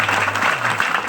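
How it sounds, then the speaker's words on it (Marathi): An audience at a kirtan gathering claps in a steady, dense burst of applause from start to finish, with faint murmuring beneath it. "मोकळ्या मनाने टाळ्या वाजल्या पाहिजे"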